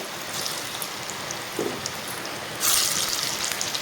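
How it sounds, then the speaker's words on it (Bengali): Heavy rain pours down in a steady, broad hiss close by, swelling noticeably louder for the final second or so, with no voices. "আমাদের জোরে বৃষ্টি নামলো"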